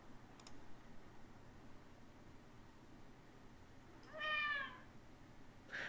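A cat lets out a single clear meow partway through, loud and close, against a quiet room hiss with a few faint clicks nearby.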